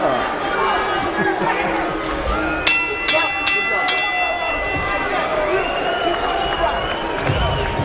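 A boxing arena crowd at the end of round two in David Tua vs Cisse Salif, a steady roar of cheering and jeering with a few sharp bell strikes in the middle, under continuous commentary.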